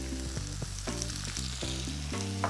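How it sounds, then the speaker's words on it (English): Prawns stir-fry in vegetable oil in a pan for Chiu Chow chilli prawns, a close, steady sizzle broken by repeated clacks of a utensil tossing them, with no talking. "just stir fry this until they turn pink"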